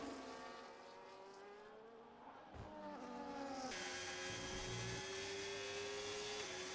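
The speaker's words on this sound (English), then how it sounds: "Into the pits goes the Ferrari of Baker Gaming." Ferrari Formula 1 car in the F1 25 racing game pulling into the pits, a steady high engine whine with sliding pitch that steps up into a brighter, louder drone, continuous throughout.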